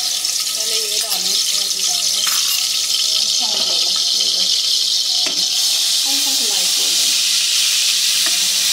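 Chicken frying in a pan until lightly golden: a loud, steady hiss of sizzling oil throughout, with faint stirring knocks underneath.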